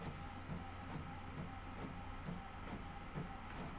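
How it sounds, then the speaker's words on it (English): A sublimation printer runs steadily, its print head shuttling with a regular rhythmic clack roughly every half second over a constant low mechanical hum, close and fairly quiet. "As y'all can see, it is printing out ever so wonderfully."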